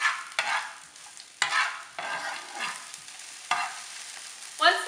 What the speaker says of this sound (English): Once the garlic and onion infuse the pan, I'm gonna remove it so the garlic doesn't overcook.